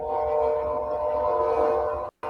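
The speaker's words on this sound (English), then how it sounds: "that train sounds pretty close" A train passing nearby, a steady sustained horn-like drone with a low rumble underneath, loud and continuous before cutting off abruptly near the end.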